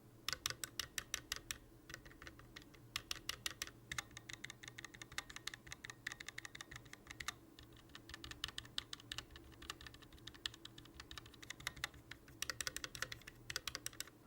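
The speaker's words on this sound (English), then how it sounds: "However, the stabilizers are still quite rattly," Someone types at a steady, quick pace on a Roccat Vulcan TKL Pro tenkeyless keyboard with Titan optical linear switches, the rattly stabilizers showing as sharper clacks among the soft key taps, quiet and close with no voices.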